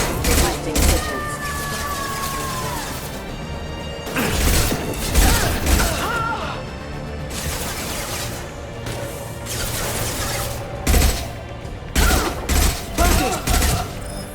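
Heavy gunfire and mechanical impacts in Mass Effect 2 as an impact shot is fired, with clustered bursts, clanks and crashes amid a busy combat soundscape and character voices speaking over it.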